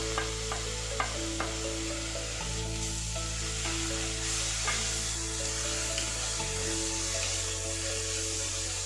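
Constant sizzling and frying of chopped tomatoes in a pan, with occasional stirring scrapes and taps, steady and close throughout.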